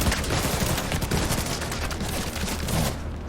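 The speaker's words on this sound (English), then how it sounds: "I think that's a light machine gun" Light machine gun fire in the video game The Division 2, loud dense bursts of rapid shots rattling almost nonstop over an urban firefight, with no voices.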